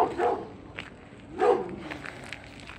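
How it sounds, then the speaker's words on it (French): Puppies at an animal shelter in Angoulême give two short bursts of barking, the second louder, with quieter yips and shuffling in between. "Voilà, ça c'est les chiots."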